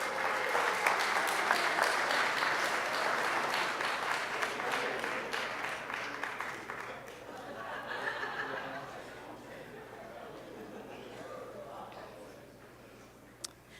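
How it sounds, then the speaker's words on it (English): An audience at the opening session of the Oak Ridge Energy City event claps for David in a steady, full round of applause mixed with light laughter, which thins out toward the end. "How about a round of applause for David?"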